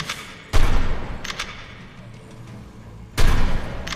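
Shooting at dinosaurs in a video game, where two loud, booming bursts of gunfire with thumping impacts stand out and softer single shots fall between them.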